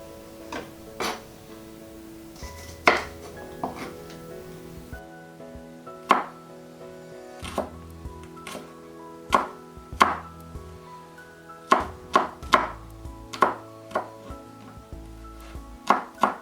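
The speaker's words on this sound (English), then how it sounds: "So just peel and finely chop the garlic." A knife finely chopping peeled garlic on a board, sharp distinct taps at an irregular pace, a few quick pairs among slower single strokes, close and clear, nothing spoken.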